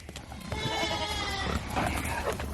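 Goats let out to graze bleat loudly and close by, one long wavering call followed by shorter ones, over a low rumbling background.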